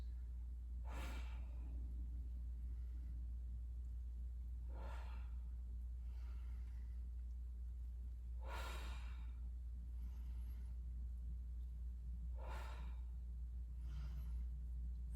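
Four slow, deep exhalations arrive at regular intervals over a low steady hum, each a breathy whoosh during a decompression exercise of shoulder-blade squeezes and forward releases, with no talk.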